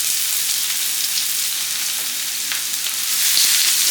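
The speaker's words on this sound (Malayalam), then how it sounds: "അതുപോലെ തന്നെ കുറച്ച് കറിവേപ്പില നമ്മൾ ഇട്ട് കൊടുക്കുന്നുണ്ട്." Curry leaves dropped into hot oil in a pan for moru kachiyath give a dense, even sizzle with light popping and crackling, heard up close and uninterrupted by speech.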